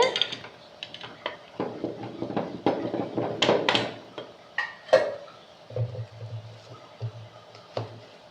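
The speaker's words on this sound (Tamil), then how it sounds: "ராகி மாவை ஆட் பண்ணிவிட்டு கிண்டிக்கோங்க பூரி கட்டையிலேயே" Ragi flour dough being stirred and pressed with a wooden puri rolling pin in a pot, giving irregular knocks and scraping thuds of varying strength, with a few low rumbling bursts toward the end.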